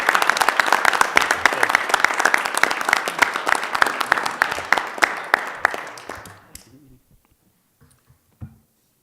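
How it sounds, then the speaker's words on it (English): Applause at a city council meeting: steady, fairly loud clapping from a room of people carries on for about six seconds, then thins and fades out, leaving a quiet room with a single faint knock near the end. "I just want to give a round of applause to Steve and his accomplishments."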